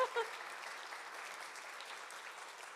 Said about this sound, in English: yes, absolutely, round of applause